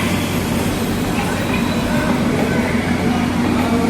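A diesel-engine toy train on the Darjeeling hill line from New Jalpaiguri makes a loud, steady, close rumble and rattle of rolling carriages that holds without pause.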